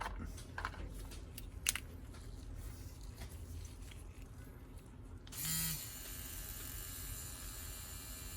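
Small clicks and fiddling as an edit needle is fitted into an ELITE REVO V2 wireless tattoo machine, then a short motor whir and a steady high buzz as the machine runs, with no talk.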